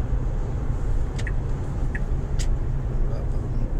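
A Tesla cruising on the A8 motorway in France, with a steady, loud road and wind roar throughout and a few faint passing high-pitched squeaks.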